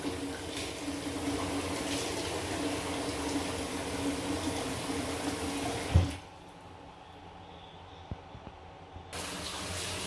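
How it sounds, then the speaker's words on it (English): Cold water gushes over shredded abacha (African salad) in a sieve as a steady broadband splash for about six seconds, then cuts off to a quiet room with a couple of faint knocks. "I'm pouring in cold water now so that it will not be getting dull"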